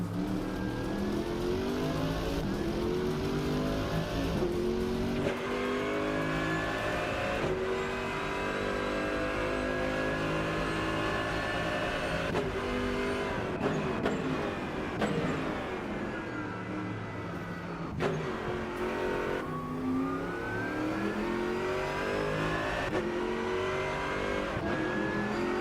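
Engine of a 90s DTM race car in the Rennsport sim racing game, revving hard with repeated upshifts and sharp downshift blips, rising and falling pitch sweeps, loud and close throughout with no talking.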